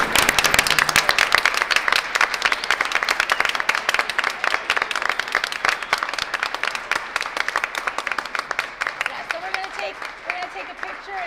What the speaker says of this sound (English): let's stand up and give them a big round of applause.